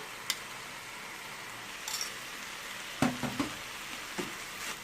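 Grated carrot and zucchini stirred in a frying pan, a low steady sizzle broken by a few scraping knocks of the utensil against the pan, moderately quiet.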